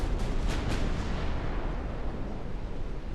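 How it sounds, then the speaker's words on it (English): Heavy, sustained rumbling blast as a torpedo strikes a warship in a naval combat game, with a few sharp bursts near the start settling into a continuous low roar. "One torpedo hit."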